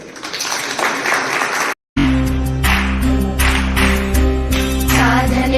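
An audience applauds at a Karnataka felicitation ceremony honouring a Gavimath swamiji. A dense, steady patter of clapping is followed by a brief gap and then amplified music with sustained tones.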